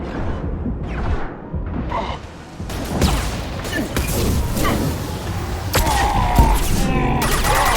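Heavy gunfire in a video game battle, a dense, loud and continuous clatter of shots and impacts with whooshes and mechanical noises mixed in.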